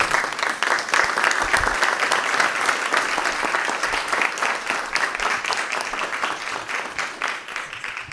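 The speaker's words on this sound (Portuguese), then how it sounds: "Uma salva de palmas para eles" Audience at a technology celebration event at Cristo applauding in a sustained, dense burst of clapping that holds steady and fades slightly toward the end.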